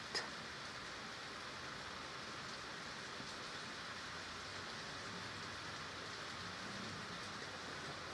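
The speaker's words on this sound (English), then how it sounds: "We've got some proper rain today," Steady rain falls outdoors in an even, hissing wash that stays constant and moderately quiet throughout, with no voices.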